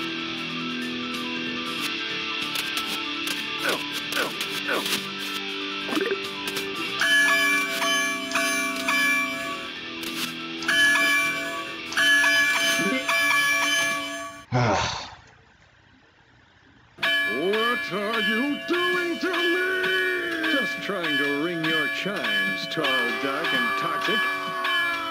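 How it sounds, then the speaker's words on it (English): Two bells ring together in the Spider-Man vs. The Kingpin video game, with bright, sustained metallic tones layered over game audio. The sound drops out briefly about two-thirds of the way through, then the ringing resumes. "get both bells ringing at the same time"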